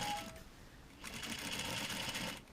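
Sewing machine stay stitching along the neck edge of a jacket collar: a brief run of stitching, a pause, then a steady, louder run for about a second and a half, close and alone with no talk.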